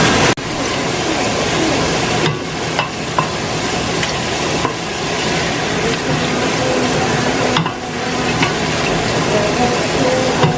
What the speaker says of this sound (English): So you're gonna continue to stir it and get it off from sticking.